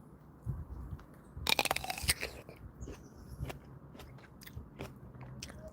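A crunchy Dapple Dandy pluot from a first-year in-ground tree being bitten into: one loud, crisp snap of a bite followed by a run of quieter wet crunching and chewing, close to the microphone.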